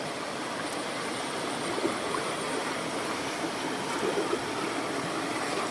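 Floodwater rushes over flooded rice fields in a steady, dense roar of flowing water, broad and continuous throughout, fairly loud with no talk.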